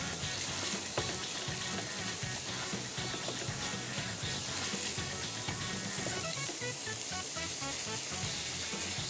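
Onion and chicken mince sautéing in a pan, a dense continuous sizzle and crackle at close range, steady throughout with no talk.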